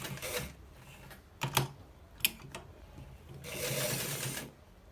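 A sewing machine stitches the back of an open shirt in short runs, with a couple of sharp clicks between bursts and a longer steady whir near the end.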